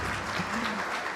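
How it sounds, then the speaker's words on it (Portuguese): An audience at a volunteer event applauds, a dense burst of steady clapping from many hands that fills the short moment without talk. "Uma salva de palmas a essa mulher maravilhosa aqui"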